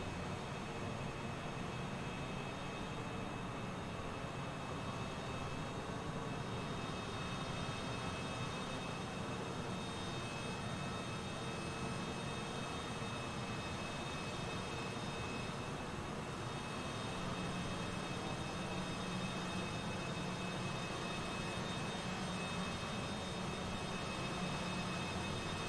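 Steady engine roar from a Cessna Citation CJ4 business jet taxiing in Microsoft Flight Simulator, a continuous broadband hum with constant tonal whine, unchanging and alone throughout.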